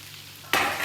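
Meatballs start frying in a big frying pan, a sudden loud sizzle bursting in halfway through after quiet kitchen background, continuing close and steady.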